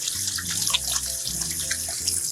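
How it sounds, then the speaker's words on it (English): Hands are rinsed under a running kitchen tap in an RV, a close, steady splash of water with a faint low hum beneath it. "Then I'm gonna rinse my hands off."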